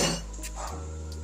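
Cornbread batter lands in a cast iron pan with a sharp metallic clank at the start, followed by a brief low scraping and settling; no one speaks.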